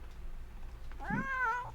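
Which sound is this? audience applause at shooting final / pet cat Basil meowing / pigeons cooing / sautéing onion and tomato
pet cat Basil meowing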